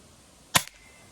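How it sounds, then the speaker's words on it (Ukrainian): A single sharp shot from a Hatsan 25 air pistol firing a cap, a loud close crack with a short tail against a quiet background. "буду більш-менш в темпі стріляти"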